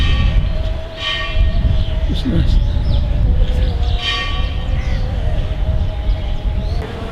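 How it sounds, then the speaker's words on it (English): A train departs a station in Bangladesh, rumbling past steadily at moderate distance, with a sustained tonal hum and brief high squeals, while a person speaks briefly over it outdoors. "just missed a train coming out as well"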